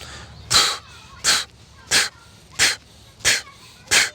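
Rapid, explosive Systema-style hyperventilation: six sharp, forceful breaths spaced about 0.7 seconds apart, close and loud, each a short rushing burst with quiet gaps between and no speech.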